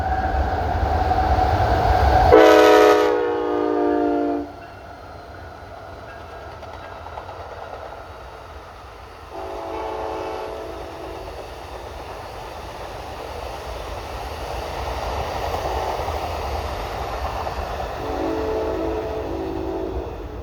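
A train rumbles past beneath a Highway 2 overpass, a loud, continuous rolling roar with a horn blaring in several long blasts, first strongly and then more faintly later on.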